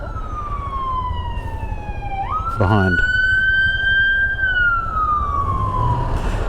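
An emergency vehicle siren wails through Houston traffic, a steady rising and falling tone with a brief yelp burst, close and loud over road and engine rumble, with a voice speaking briefly.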